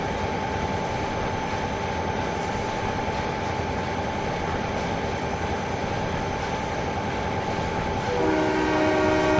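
A freight train in Trainz 2022 rolls along Midwestern rails with a steady rumble and a long sustained horn blast at a whistle post, the horn swelling louder near the end over continuous track noise.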